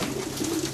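Pigeons coo softly inside a darkened loft, a brief low murmuring call with a faint breathy background and no voices.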